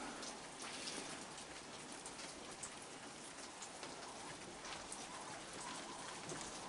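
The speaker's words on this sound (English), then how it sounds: "And it's raining." Steady rain falls close by, a dense even hiss of drops pattering on surfaces with no voices or other sounds.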